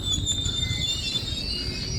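A train rumbles steadily nearby with a high metallic squeal ringing over the low, continuous rolling noise.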